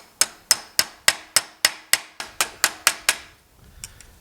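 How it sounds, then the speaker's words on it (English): About a dozen sharp, ringing body-hammer strikes on sheet metal held in a vise land in a steady rhythm, close and loud, followed by a brief quieter shuffle. "I'm going to use my favorite body hammer"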